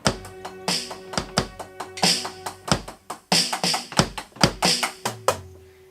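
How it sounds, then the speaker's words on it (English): A drum kit played up close in a quick, uneven pattern of sharp hits, cymbal crashes and low thumps, loud and busy for several seconds before the hits stop and a cymbal rings out, with no talking. "This is how essentially drums sounds like."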